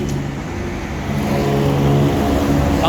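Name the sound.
Suzuki Multicab 660cc three-cylinder gasoline engine running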